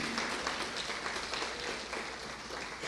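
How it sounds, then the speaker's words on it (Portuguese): Applause from a church congregation at a Catholic talk, a steady broadband patter of many hands clapping throughout, fairly dense and even without clear pauses. "Vamos aplaudir o Senhor"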